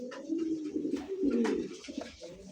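Pigeons coo close by in a home loft holding many birds, giving soft, throaty, rolling calls that overlap in a continuous murmur with brief pauses.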